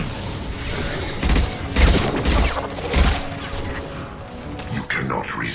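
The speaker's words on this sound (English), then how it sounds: "Firing a high-impact shot." Gunfire in the video game Mass Effect 2, several heavy shot bursts and thumps in quick succession amid combat noise, with a synthetic voice speaking over it.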